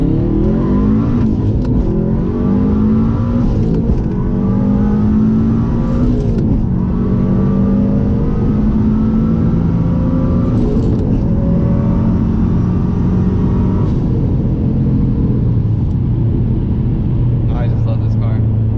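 A 2005 Subaru STI with a COBB 20G turbo drives on bumpy streets in Tijuana, its engine droning and rising through revs in repeated pulls, with someone talking over it from inside the cabin.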